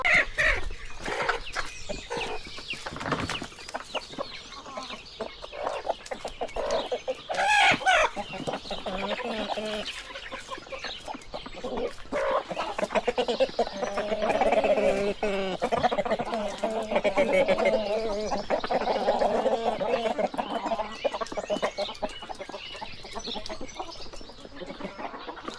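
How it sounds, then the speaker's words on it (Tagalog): Chickens and young chicks cluck and peep without a break at feeding time on a backyard flock in New Zealand, a busy close chorus that swells in the middle, with a little talk now and then. "Malalaki na yung ating mga sisiw."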